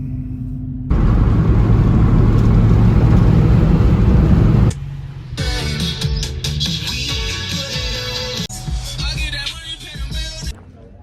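A car driving in Berkeley, California, as a steady loud interior road rumble that later shifts to a rougher, busier engine and road noise, with no talking.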